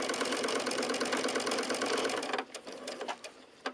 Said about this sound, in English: I'm just going to start sewing to this corner, but slightly in to the right.